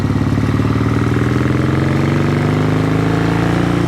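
A 1972 Yamaha XS2 650cc motorcycle engine idles loudly and close up, a steady low throb with rapid, even pulses and a slight rise in pitch.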